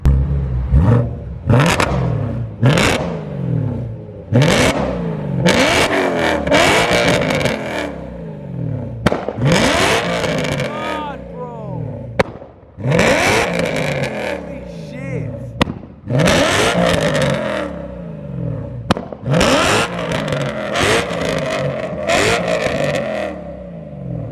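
A BMW E92 M3 engine with a very loud exhaust revs hard again and again, past 5,000 rpm, rising and falling with loud, crackling exhaust pops and bangs, close by, with people talking over it.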